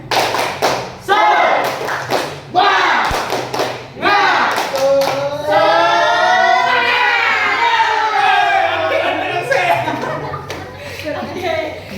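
In an elementary-school teaching session, a group performs a rhythmic clapping chant: sharp bursts of hand claps and thumps alternate with voices chanting together, loud and close.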